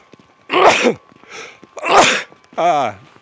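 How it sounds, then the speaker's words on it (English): Several loud sneezes burst out in quick succession, close by, with a short pause between each and a breathy inhale before the last. "No, I have to sneeze."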